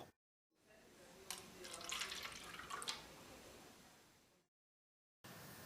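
Water pours into an insulated polystyrene cup, a short close trickle that swells and fades over a few seconds, framed by silence.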